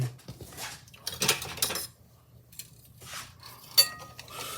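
Dry waffle ingredients, flour with a little baking powder, get mixed in a bowl, with short bursts of clinking and scraping separated by quiet gaps, close and fairly soft.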